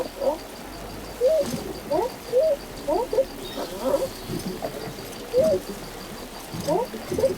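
A small creature in the video game Death Stranding 2 chirps and coos repeatedly in short, bird-like bursts over a steady ambient bed, fairly close and clear, with no voices over it.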